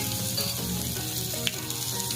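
Mustard seeds, cumin and fenugreek sizzle loudly in hot oil in a pan, a steady close crackle with a few faint pops and stirring scrapes running through it.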